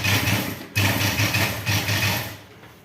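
Sewing machine stitching piping on a chudi, with three short runs of steady mechanical whirring separated by brief pauses, close and fairly loud.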